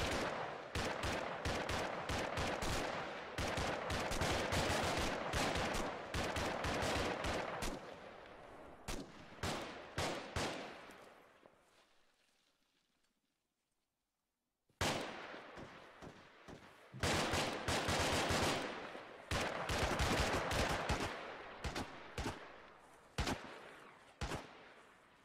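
Arma 3 gunfire during a squad military operation: dense volleys of rapid shots and bursts, loud and close, breaking off into a brief near-silence before the firing picks up again just as heavily.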